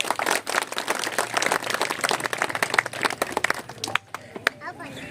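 Audience applause at a village event in Bhithua, dense clapping crowd sustained for about four seconds, then thinning into scattered individual claps as it winds down.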